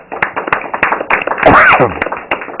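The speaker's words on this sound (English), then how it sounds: "They are really here. This is not canned applause." A live studio audience claps in scattered, close, uneven bursts for nearly three seconds, with a voice talking over the applause partway through.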